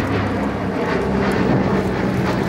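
Catalina seaplane engines at an air show, a loud steady low propeller-engine drone with a rumbling texture, heard alone without talk.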